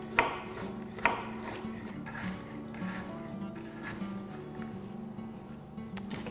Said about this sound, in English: we're going to give a nice small chop to our carrots